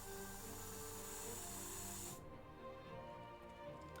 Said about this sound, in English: So I pour the water in the airbrush and I give it a spray.